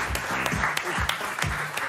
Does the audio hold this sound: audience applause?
yes